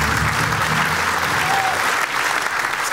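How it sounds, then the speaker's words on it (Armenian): A stand-up comedy audience at Women's Club applauds loudly, a dense, sustained wall of clapping from a large crowd that holds steady for the whole stretch, close and full. "Եկեք շատ բարձր ծափարենք"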